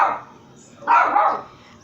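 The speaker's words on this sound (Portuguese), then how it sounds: "Não liga a zoada da minha cachorrinha." A small dog barks twice, a short bark at the start and a longer, louder yapping burst about a second later, fairly close in an indoor room with no talk over it.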